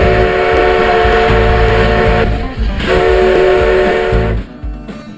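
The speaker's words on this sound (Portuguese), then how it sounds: "utilizando aqui a Maria Fumaça, o chamado trem Caiçara" The Maria Fumaça steam train of 1884, the Trem Caiçara running from Morretes to Antonina on the Paraná coast, gives loud whistle blasts over rolling rail noise. The whistle breaks off briefly and then sounds again.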